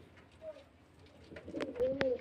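Pigeons offered for sale at a bird market coo in short throaty bursts, with a clear warbling call near the end over faint background noise.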